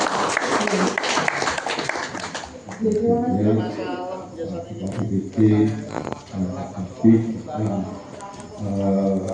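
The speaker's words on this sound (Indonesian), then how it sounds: "Kita tepuk tangan sekali lagi Bapak." An audience at a village meeting on waste-collection fees in Purbayan, Baki, Sukoharjo, Central Java, claps in a dense burst for about two seconds, then the applause gives way to someone speaking.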